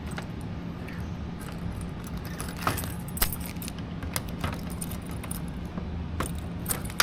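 Car keys jangle and clink in short bursts against a steady low hum while someone fumbles to unlock a 1974 Dodge Challenger, with a few sharper metallic rattles standing out.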